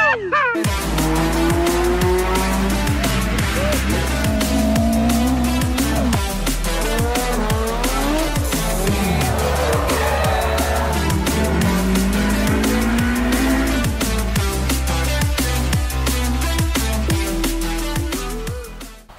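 A Mazda MPS fitted with a new short shifter drives hard, its engine loud and continuous as revs rise and fall through repeated gear changes, with bursts of tire squeal over roughly nineteen seconds.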